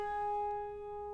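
A quiet sustained piano melody note from the Moonlight Sonata rings alone and fades softly, its steady harmonics lingering over a low background.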